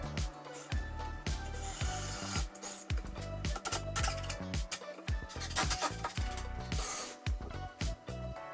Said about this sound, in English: I screwed them together to make everything nice and solid